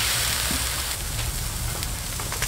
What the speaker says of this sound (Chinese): 毛肚下锅后煮个一分半钟就可以了哈